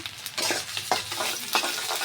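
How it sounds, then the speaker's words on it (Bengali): Oil sizzles hard in a wok (kadai) while something is stirred through it, a loud, close, continuous frying hiss broken by scraping strokes. "তেলে তেলটা দিছি কড়াইতে তেলটা দিছি এখন"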